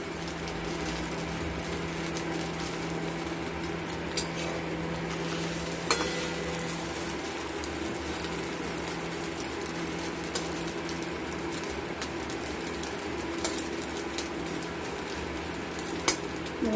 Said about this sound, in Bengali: আমরা এইভাবে সবগুলো ডিমের অমলেট করে নেব।